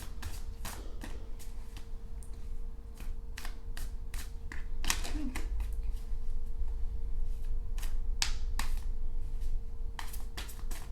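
Tarot cards being shuffled up close in quick, crisp bursts of riffling and tapping, quiet and repeated with short pauses between.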